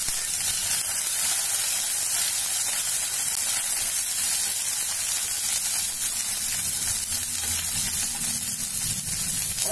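Mustard seeds and curry leaves crackling in hot oil for masala rava appam, a loud, dense, continuous sizzle with steady hiss and faint pops, close and unbroken throughout.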